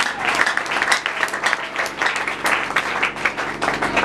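A church congregation claps and cheers in praise of the Lord, a dense, steady roar of applause filling the room at close range with no gaps.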